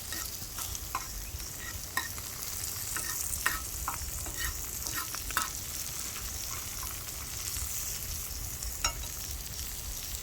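Onions frying on a hot grill for BBQ Juicy Lucy burgers, a steady close crackling sizzle with occasional sharper pops and light scraping, continuous throughout.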